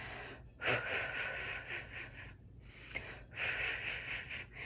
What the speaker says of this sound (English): you're just going to pulse some air onto your hand